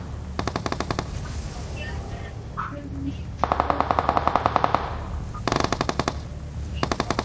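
In the PUBG Mobile video game, players fight on the ground below. Bursts of rapid automatic gunfire crackle in repeated volleys with short pauses between them, sounding moderately distant.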